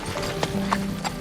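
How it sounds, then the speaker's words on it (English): Horse hooves clip-clop in a few distinct beats at close range, with a faint whinny and low background murmur. "Need you to reshoe this horse."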